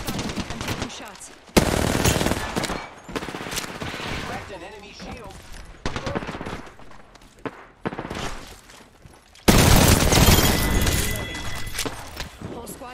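Rapid automatic gunfire from a squad-based online shooter game, loud bursts and fusillades that repeat throughout and swell sharply near the end, with a player's voice talking over the shots.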